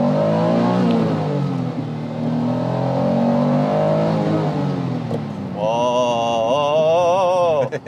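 A Honda NSX-R engine revs up through the gears, its tone climbing and dropping with each shift before a sharp, high-pitched surge at the end, heard from inside the car and loud.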